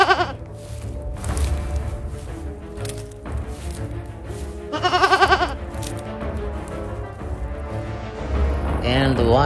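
Goat on a rocky ledge giving several loud, close, wavering bleats in separate bursts, with other animal calls and background noise between them.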